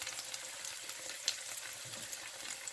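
Sautéing over low heat in a pan, a gentle base cooking for Cuban chicken wings in sauce. A steady, fairly quiet crackle and sizzle carries throughout, with occasional light pops and scrapes of stirring.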